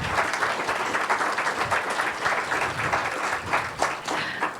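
An audience at an International Women's Day career-progression event applauds the panelists and facilitator with a dense, continuous wash of many hands clapping, steady and moderately loud throughout.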